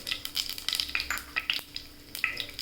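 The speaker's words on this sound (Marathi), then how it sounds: "आता हे तेल तापलं आहे तर मोहरी टाकूया" Mustard seeds hit hot oil while tempering for sambar, a soft sizzle studded with quick scattered pops and crackles, one faint clink, no voices.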